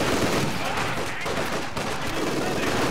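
Machine gun fire rattles in the WWII strategy game Company of Heroes 2, a loud, sustained stream of rapid shots mixed with other battlefield gunfire and booms.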